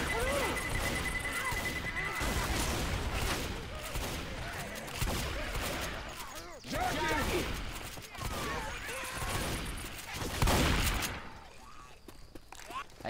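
Dense bursts of gunfire and crashing blasts from a pipe bomb in Left 4 Dead 2 fill the scene, rapid and loud and chaotic, with voices talking over the fighting.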